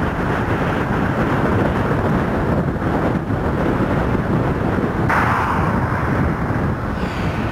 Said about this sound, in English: it's very windy here